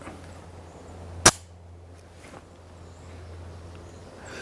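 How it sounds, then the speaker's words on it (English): A rifle fitted with an aftermarket trigger fires a single sharp shot, loud and close, followed by a faint echo over quiet outdoor background hum. "But I am liking the way I'm shooting the gun."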